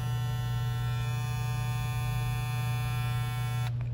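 StyleCraft Gamma+ Ergo hair clipper running steadily up close, a loud continuous electric motor hum and buzz that holds for nearly four seconds before cutting off at the end.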